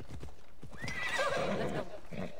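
A horse in the Assassin's Creed Origins video game, with a quick run of hoofbeats clip-clopping close by and then a loud neigh rising over them.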